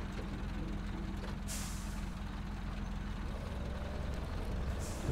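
A heavy truck in Spintires creeping downhill in low crawling gear, a steady low engine drone with a couple of short hissing air-brake bursts, continuous and fairly close, with no talk.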